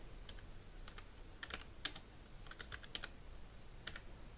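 Soft keyboard typing for a lead-generation contact entry, with irregular clusters of light key taps and short pauses, fairly quiet over a low background hiss.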